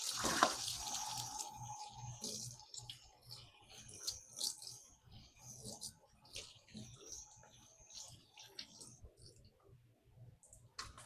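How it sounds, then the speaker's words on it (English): Water runs from a kitchen tap as hands are rinsed during cake baking, a soft, uneven splashing that stays fairly quiet throughout, with small clinks and movements around it. "So I am going to rinse my hands."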